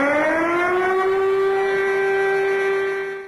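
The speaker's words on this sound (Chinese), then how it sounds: "千余台防空警报器依次鸣响，预先、空袭、解除、灾情四类警报。" An air-raid civil defense siren sounds over Chongqing on a memorial day, a loud, sustained mechanical wail that rises in pitch, then holds a steady tone before starting to fade.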